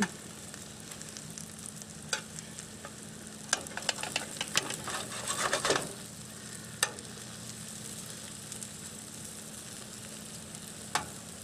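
Sliced mushrooms fry in a RidgeMonkey pan outdoors with a quiet, steady sizzle, broken by occasional sharp clicks and a short burst of spitting.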